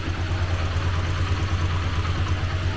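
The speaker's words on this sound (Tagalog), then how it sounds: "tahimik yung makina natin" A Yamaha XTZ motorcycle engine idling quietly, a steady low hum with faint mechanical clatter, close and even throughout with no talk.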